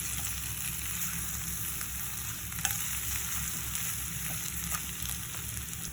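Potato curry with chili powder sizzles and fries in a pan as it is stirred, a steady, quiet crackling hiss with a few faint scrapes.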